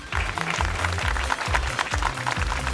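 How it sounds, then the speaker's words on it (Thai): A studio audience claps at a friendship reality show, a dense, continuous patter of applause mixed with low, rhythmic tonal sounds in the background. "ขอเสียงปรบมือด้วยครับ"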